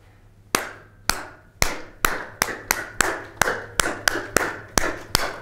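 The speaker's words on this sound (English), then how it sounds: "So I'm just going to keep clapping this thing" Hand claps struck in a steady, even rhythm, about a dozen sharp, bright slaps spaced roughly half a second apart, close and clear with no talking, during a jazz rhythm exercise at a university seminar.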